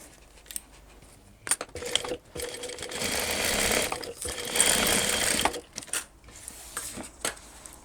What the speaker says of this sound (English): And sew along the top.